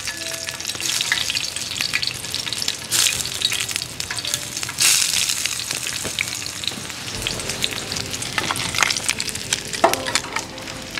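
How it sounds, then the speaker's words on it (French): Small fish frying in hot oil outdoors in a forest, a steady close crackling sizzle that runs throughout, with brief louder spits and a stir partway through. "On met de l'huile à chauffer et on vient y mettre nos petits poissons."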